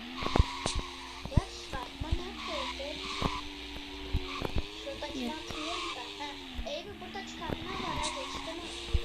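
A video game car drives along while its engine hums in sliding tones, broken by sharp skid and squeal bursts, as a person talks over it throughout.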